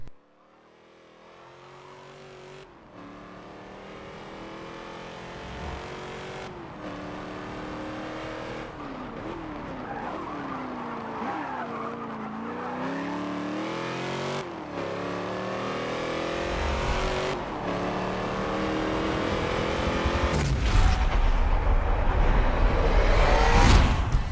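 A car race in the Forza 7 video game, an engine revving up through rising gear pulls with sharp shift breaks, growing steadily louder toward the end with a tire squeal near the finish.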